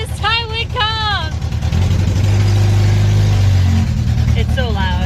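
A Honda CRX engine drones loudly from inside the moving car, a steady low rumble that rises for a couple of seconds, with excited speech before and after it.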